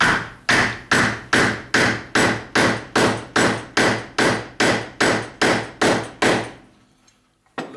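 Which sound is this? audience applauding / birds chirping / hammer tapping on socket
hammer tapping on socket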